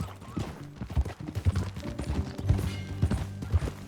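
Horse hooves clip-clop at a riding pace in the video game Red Dead Redemption 2, a close, uneven rhythm of thudding steps with faint rustling between them and no speech.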